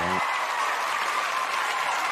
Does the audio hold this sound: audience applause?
yes